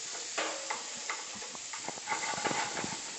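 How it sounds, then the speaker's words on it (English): Onions dropped onto crispy bacon in a pan, crackling sizzle with a flurry of small pops and spatters over a soft hiss, close and fairly quiet. "We're going to add a little bit of the onions to that."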